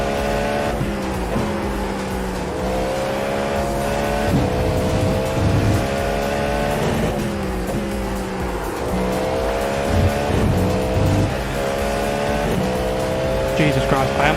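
A race car engine in the iRacing simulator revs hard through repeated upshifts and downshifts, with tire squeal and skidding as the car is pushed to its limit, loud and continuous throughout.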